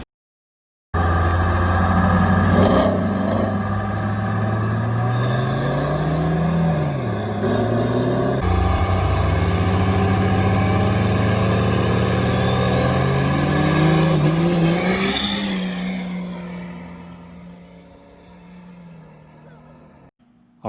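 Street racing at night with a triple turbo Cummins diesel truck, a loud sustained engine roar climbing and shifting through gears for about fifteen seconds before fading into the distance.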